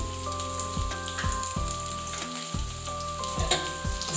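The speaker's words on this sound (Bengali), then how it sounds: "ওই সব মশলাগুলোকে ভালো করে একটু কষে দিচ্ছি।" Spices with turmeric sizzle and crackle in hot oil for a Bhola fish curry, a dense steady frying hiss broken by repeated scraping and stirring strokes, close and loud with no speech.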